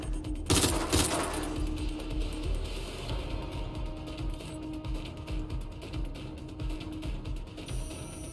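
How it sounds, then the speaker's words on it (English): Gunfire in the video game Watch Dogs: Legion, a loud burst of shots near the start, then rapid rattling automatic fire running under a dense, busy game soundscape. "Gunfire!"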